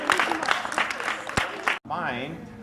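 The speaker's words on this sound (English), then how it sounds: "So let's give Aiden a round of applause." Students in a school group clap briefly for a classmate named Aiden, the scattered claps partly buried under voices, followed by a short pause and then a person talking alone.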